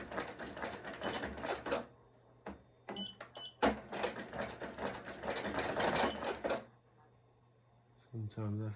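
An embroidery machine stitches a patch in rapid mechanical bursts. Brief pauses break up the sewing, and it stops near the end before a low thump.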